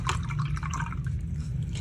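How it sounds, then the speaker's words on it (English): Gold watercolor paint splatters onto paper in quick, light wet spatters, faint ticks and drips over a steady low background hum. "This is some Quin Gold here I'm splattering on."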